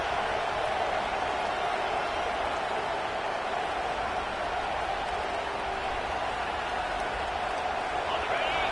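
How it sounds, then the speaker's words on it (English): A dense, constant roar of a large stadium crowd cheering, steady and far-reaching with no breaks. "Listen to the crowd energy here in the early going."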